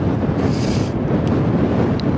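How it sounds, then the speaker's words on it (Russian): Strong wind on a mountain slope roars and buffets the microphone in a steady, loud rush with no voices. "поднялся такой ветер"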